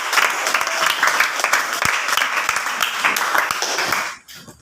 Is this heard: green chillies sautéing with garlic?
no